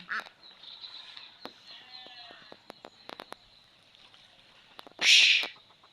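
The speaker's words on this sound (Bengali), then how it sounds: "ওই যে আরো হাঁসের বাচ্চা" Village ducks with ducklings on a foggy rural morning, scattered soft quacks and peeps with one louder burst of quacking near the end, close by and otherwise fairly quiet.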